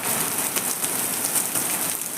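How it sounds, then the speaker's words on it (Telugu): Steady rain falls outdoors onto surfaces among green trees, a dense continuous hiss close by with a few scattered drip accents and no voices. "ఈరోజు వర్షం పడుతుంది."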